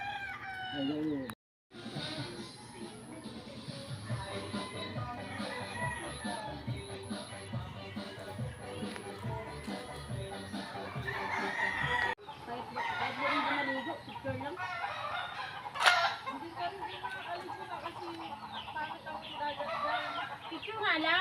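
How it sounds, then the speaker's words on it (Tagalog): Fighting cocks, gamecock roosters on a farm, crow repeatedly and cluck, the calls overlapping at varying distances against background noise, with people talking intermittently. "Anywhere dito sa lugar na to ay may mga manok na panabong."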